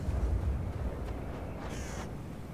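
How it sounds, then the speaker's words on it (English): A crow caws in the horror video game Devour, a single harsh call standing out clearly over a low dull background rumble, with no talking. "I heard the crow."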